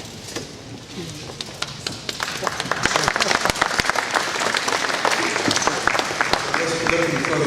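An audience claps, building from scattered claps into loud, steady applause that continues throughout.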